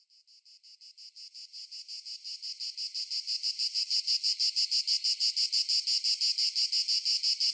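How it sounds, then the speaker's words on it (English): Loud insects buzz in a rapid pulsing rhythm, the droning chorus swelling from soft to strong and then holding steady. "Where are these cicadas coming from?"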